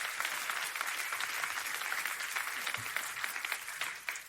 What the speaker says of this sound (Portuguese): aplauda ao Senhor